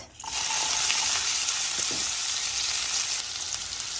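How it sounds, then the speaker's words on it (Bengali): Onion sizzles in hot oil in a pan as eggs are prepared for an egg dal, a steady loud fry starting abruptly and running throughout, with faint stirring scrapes and no talk. "ডিমটা ভুনা করব আমি একটু তেল দিয়ে দিব তারপর"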